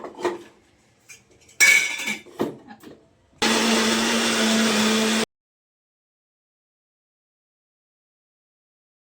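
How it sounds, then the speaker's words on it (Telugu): A kitchen mixer grinder blends bottle gourd pieces into a paste. A few clanks and bursts come first, then a loud, steady whirring run that stops sharply, followed by silence. "మనం మిక్సీకి వేసుకోవాలి మొత్తం పేస్ట్ లాగా వేసుకోవాలి"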